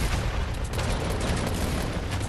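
A ray gun fires in Fortnite Battle Royale, giving a dense rapid burst of sharp, loud energy blasts that continue without pause for the whole stretch.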